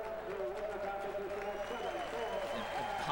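A stadium crowd at a track and field championship meet gives off a steady dense roar of cheering and murmur, with talk over it.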